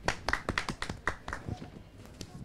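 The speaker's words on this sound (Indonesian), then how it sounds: "Tepuk tangan buat beliau." Audience clapping at an SKK Migas event honouring a Medco Energy supply chain executive, a brief burst of sharp irregular claps that thins out toward the end.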